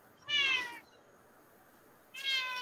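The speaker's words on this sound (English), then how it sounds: "there is also a cat." A nine-year-old hairless Sphynx cat meows twice, close and clear, with a short pause of quiet room tone between the two calls.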